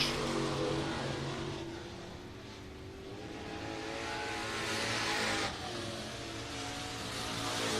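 Crate Racing USA street stock race cars lapping during warm-ups at All Tech Raceway in Ellisville, Florida, a dense roar of several engines rising and falling as cars pass, loud and continuous throughout.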